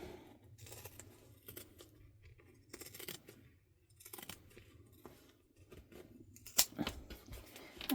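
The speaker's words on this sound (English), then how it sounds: "I'm going to use pinking shears. I'm just going to trim down" Pinking shears trim the fabric seam allowance on a tote bag, giving a series of crisp, crunchy snips at an uneven pace, close and fairly quiet, with one sharper snip near the end and no talking.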